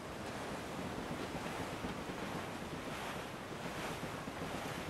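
Steady roar of wind and rolling ocean surf while sailing a ship in Assassin's Creed IV Black Flag, a continuous loud wash with no pause.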